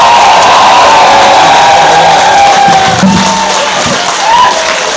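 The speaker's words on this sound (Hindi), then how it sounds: "अपनी तालियां बजाते रहिए" A large audience at a Hindi-speaking community event claps and cheers in a standing ovation honouring a guest, a loud, dense wash of applause with whoops and shouts running throughout.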